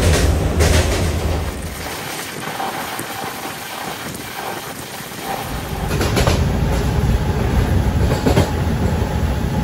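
A Rajahmundry to Kakinada Port MEMU passenger special train runs steadily with a continuous loud rolling roar, wind buffeting and faint clickety-clack from the wheels, the noise swelling slightly near the end; no one speaks.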